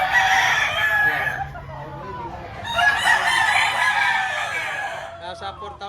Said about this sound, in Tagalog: Mga galing ng farm ang mga manok na ito.